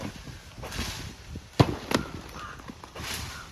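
Firework rocket launching outdoors: a couple of sharp cracks and a quick hiss in the middle of the clip, set against a noisy background.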